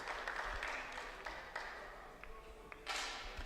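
Applause from spectators at a junior mixed team 10m air rifle final at the 2019 European Championship in Osijek, Croatia: faint, steady patter in a large hall that swells briefly near the end.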